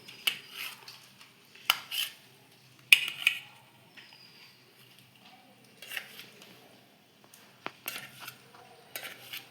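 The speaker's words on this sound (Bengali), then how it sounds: "এইদিকে আমি ডিম সিদ্ধ করা ডিমগুলো আমি আস্তে আস্তে করে ছোট ছোট করে পিস করে নেব।" A knife slices boiled eggs into small pieces, giving sparse, light clinks and taps against a plate or bowl, with short scraping bursts between quiet gaps.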